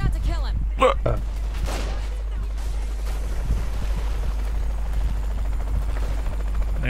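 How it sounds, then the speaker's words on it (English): A helicopter in the video game Saints Row 3 Remastered gives a constant low rotor drone, with bursts of game gunfire and effects near the start and speech over it. "I need to get the helicopter."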